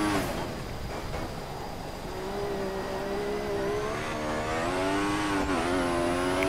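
A Formula 1 car in the F1 2014 video game circles the Bahrain circuit at night, its high-pitched engine whining steadily and climbing in pitch as it accelerates, heard alone with no speech.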